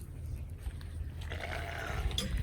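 Sheep on a farm giving a short bleat from a distance, over low background rumble, brief and moderately faint.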